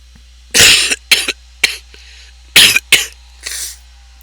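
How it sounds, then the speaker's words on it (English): Several harsh, loud coughs close by, in two bursts with short pauses between them, and no talking. "I don't want to cough like that all the time."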